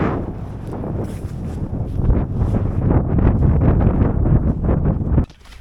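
Wind buffeting a tent pitched in the snow during a ski crossing of the Hardangervidda in Norway, a loud rushing roar swelling in gusts and then cutting off abruptly near the end.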